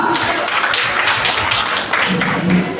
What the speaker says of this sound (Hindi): लीजिए परवीन जी के लिए जोरदार तालियां